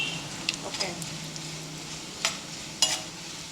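Bitter gourd slices fry with turmeric in a pan, a continuous close sizzle with a few brief scraping and stirring knocks.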